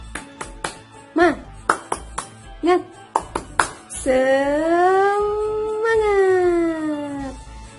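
A class of young schoolchildren claps out a rhythmic spirit clap, sharp patterned bursts of claps with chanted voices between them, then a long sustained group shout that rises and falls.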